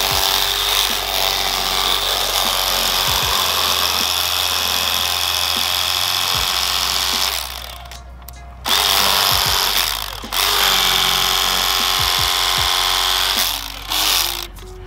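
Rapala heavy-duty lithium battery electric fillet knife filleting crappie, a loud whirring buzz that runs for several seconds, stops briefly, then resumes in bursts with short pauses.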